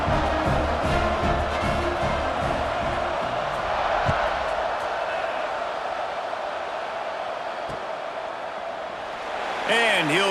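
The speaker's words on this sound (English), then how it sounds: "this crowd is buzzing after that last score" Stadium crowd in the College Football 26 video game buzzing after a score, a steady loud roar of many voices throughout with scattered cheers and a brief rise near the end, with a commentator's voice over it.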